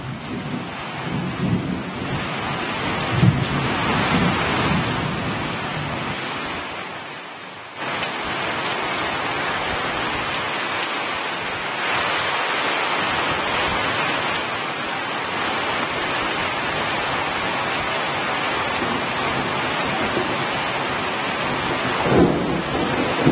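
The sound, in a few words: heavy rain with hail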